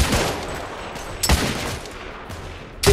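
Gunfire in The Order: 1886 video game: a few sharp, loud shots ring out over a steady ambient bed, with a final burst at the very end and no talking.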